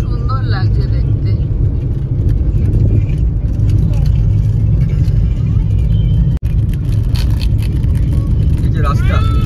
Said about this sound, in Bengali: রাস্তা দিয়ে এই যে গাড়ি যাচ্ছে